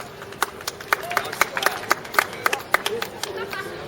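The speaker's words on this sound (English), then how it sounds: "Big round of applause." Audience clapping in a small room, a sparse irregular patter of individual claps rather than a full ovation, with voices chattering underneath.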